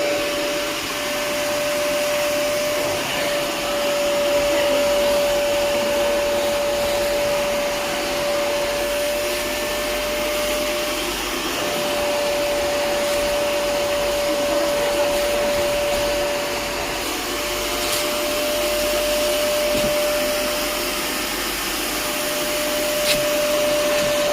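A Kiwi KCC 4320 carpet and sofa washing machine runs continuously with a steady loud suction roar and a constant high motor whine, unbroken throughout with no talk.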